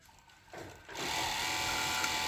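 A Brother overlock sewing machine starts up after a quiet moment and settles into a steady, loud whirring hum, heard up close with no voices.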